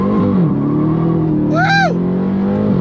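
Dodge Charger Jailbreak Hellcat from 2023, a muscle sedan on wide 305 rear tires, pulls away hard from a standstill with a loud, steady engine roar and a brief high whine partway through.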